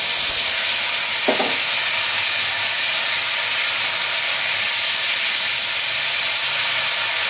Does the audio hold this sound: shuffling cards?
no